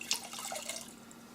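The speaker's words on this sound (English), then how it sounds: "I'm going to wet the head now with the cloth" A cloth is dipped and wrung in a bucket of cold water, giving a short burst of close, soft splashing and trickling drips, with no voices.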